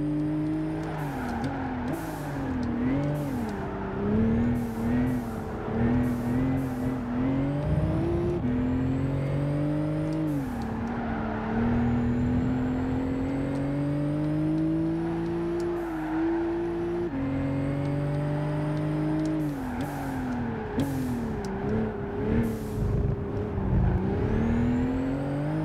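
A race car engine drones through a lap in Gran Turismo 5, holding a loud sustained whine that climbs in pitch with each gear and drops sharply at the shifts, with brief downshift blips in between and no talking over it.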